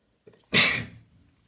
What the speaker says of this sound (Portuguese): deu espirrão aqui